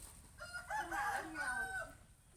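A rooster crows in a rural Thai village yard, a single drawn-out call lasting about two seconds, moderately close, heard over soft outdoor background without talk.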